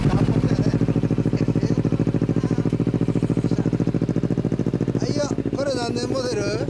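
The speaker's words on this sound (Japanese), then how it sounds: "よっしゃ、エンジンを聞かせてもらえる？" A 2002 Harley-Davidson V-Rod VRSC with a full custom Vance & Hines exhaust idles close by with a loud, even, pulsing thump, and someone speaks over it near the end.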